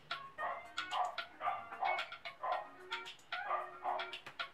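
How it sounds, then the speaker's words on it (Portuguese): A dog barks repeatedly in the early morning hours, a rhythmic run of roughly a dozen sharp barks with a few yips in between, moderately close and with no talk. "Desculpa o barulho de cachorro"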